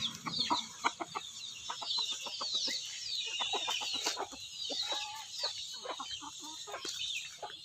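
A flock of chickens clucks steadily at close range, mixed with constant high-pitched peeping from chicks.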